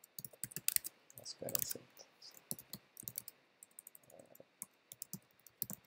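Keystrokes on a computer keyboard while entering basic user details, clicking in irregular bursts and short runs close up, with someone talking briefly over them.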